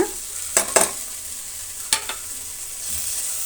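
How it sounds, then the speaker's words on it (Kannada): Tomato and spice powders sizzle in a pan while a utensil stirs them, a soft steady fry broken by a few sharp scraping clacks, with no one talking. "ಈ ರೀತಿ ಟೊಮೆಟೊ ಫ್ರೈ ಆಗಬೇಕು"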